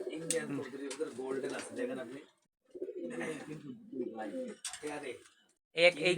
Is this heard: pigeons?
yes